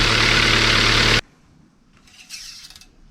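A 2016 Hyundai Accent engine idles loudly and steadily for just over a second, then cuts off abruptly into near silence, with only faint clicks and rustling afterward.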